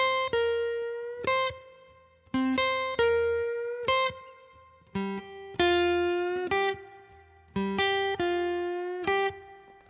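Electric guitar plays four bars of a blues song, clean plucked notes and double stops in a steady shuffle rhythm with a short pause between phrases, played alone and close up.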